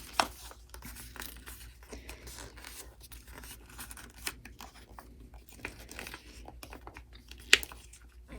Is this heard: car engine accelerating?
no